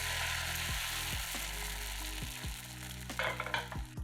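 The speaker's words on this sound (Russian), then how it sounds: "Из приготовленной яичной массы жарим блины." Egg batter for egg crepes sizzles and crackles steadily in a hot oiled pan, with a few soft scraping and tapping sounds toward the end, no talking.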